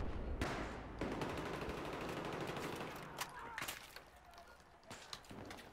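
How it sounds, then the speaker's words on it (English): Gunfire in the video game Battlefield 3: faint, distant automatic bursts and scattered single shots crackle on and off, with some quiet talk. "Who's doing the shooting?"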